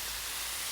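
Steady broadband hiss of steam as water is poured onto cooking carne adovada in a hot pan on a disc cooker, continuous and fairly loud with no voices.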